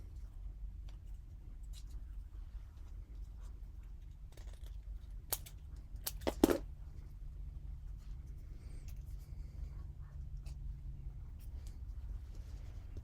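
Scissors cut paper while a folded finch greeting card is made: a few short, crisp snips cluster near the middle, faint and close, over a low, steady room hum with no talking.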